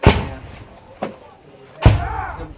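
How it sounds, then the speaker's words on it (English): Three deep, muffled booms of 60mm mortar fire thud in a firefight, the first and last heavier, the middle one fainter, each fading quickly. "that sounded like Mortar Fire to you, didn't it?"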